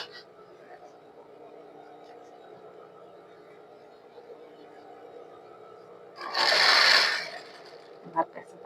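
A sewing machine with a narrow presser foot stitches a coat zipper slowly past a button, a quiet low whir for several seconds, then a louder brief burst near the end.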